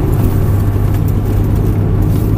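A Ferrari 360 Modena F1 on the Mettet track drones with a steady, loud low engine roar, held at a constant pitch without clear revving.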